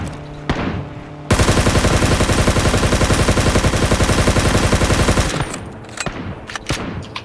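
An AK rifle in the video game Ring of Elysium fires a single sustained burst of rapid automatic shots, loud and close, lasting about four seconds. Fainter game sounds come before and after.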